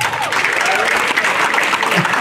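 A large audience applauds the graduates at a high school graduation ceremony, a dense, loud wash of clapping that holds steady and continuous with scattered crowd noise mixed in.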